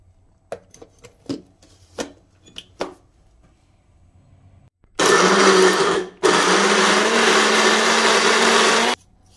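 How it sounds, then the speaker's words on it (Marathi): A mixer grinder blends fresh green peas with water into a fine paste. A few sharp clicks and taps come first, then a short silence, then two loud, close whirring bursts of the grinder separated by a brief stop. "पाणी घातल्यानंतर आपल्याला हे एकदम बारीक आपल्याला पेस्ट बनवून घ्यायची आहे। तर आता हे मिक्सरला"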